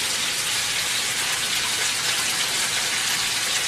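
Water is poured into a saucepan in a steady, continuous rushing splash that stays loud and even throughout, with no one talking.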